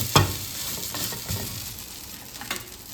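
Dosa batter poured onto a hot pan and sizzling, a steady close frying hiss with a sharp splash at the start and a few soft scraping taps, no voices.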